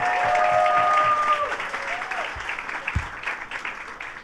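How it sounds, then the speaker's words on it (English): A crowd at a New York governor's announcement applauds, a dense burst of clapping that starts loud and slowly thins toward the end, with a few louder claps and a brief faint tone near the start. "let's give him a round of applause"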